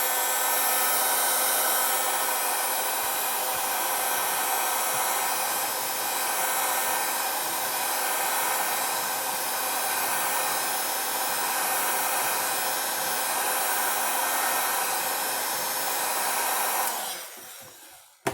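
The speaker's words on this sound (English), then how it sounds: "So I'm going to use heat gun, or if you have like a fan, anything will work." A heat gun blows on the back glass of a Samsung Note 10, giving a loud, steady, close airy roar that runs unbroken for about seventeen seconds before shutting off.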